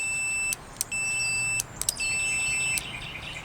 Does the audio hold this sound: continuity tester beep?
yes